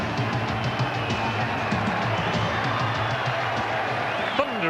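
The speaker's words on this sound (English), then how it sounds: "Thunderous applause around Headingley for Graham Steadman" A large rugby league crowd at Headingley for Leeds against Castleford, sending up a loud, sustained roar of applause and cheering that fills the whole stretch as a commentator talks over it.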